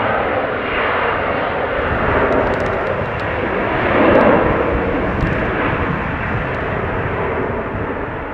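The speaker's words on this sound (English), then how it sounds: "But not before a KLM Embraer takes off." A KLM Embraer jet takes off at Amsterdam Schiphol, its engines giving a steady, loud broadband roar that swells slightly near the middle of the clip and carries on throughout.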